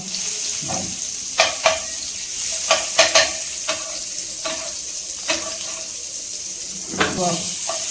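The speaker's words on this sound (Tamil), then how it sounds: "ஆக்சுவலாக பட்டர் வந்து சேர்க்குறேன் கொஞ்சம் கூட" Butter sizzles in a hot pan for a paneer masala kadai gravy, a steady frying hiss broken by several sharp clinks and scrapes of a utensil stirring against the metal.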